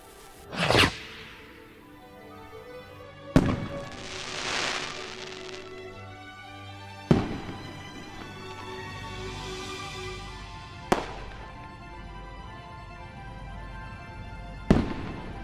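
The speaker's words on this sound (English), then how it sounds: "dragged it against the striker, and lit the firework." Fireworks in the video game Foolish Mortals burst loudly at roughly regular intervals, about five sharp cracks in all, each trailing off into a fizzing, crackling shower.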